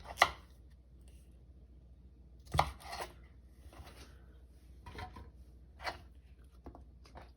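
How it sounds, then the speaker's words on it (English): A knife cuts green bell pepper into smaller pieces on a board in a quiet kitchen, a handful of sharp, close, separate chops spaced a second or two apart. "we're gonna cut up our green bell pepper to smaller pieces"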